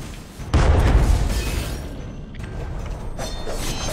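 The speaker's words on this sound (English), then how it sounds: "He uses his cigar to light the cannon." A single heavy cannon boom bursts out near the start of an Alice: Madness Returns game scene, followed by a rumbling, crackling tail and mechanical clatter.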